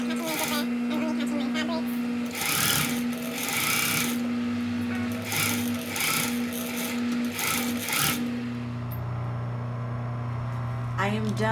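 A sewing machine stitches a zipper fly onto a front pant panel, running in steady bursts with a constant motor hum, close and fairly loud, with a voice speaking lightly at times.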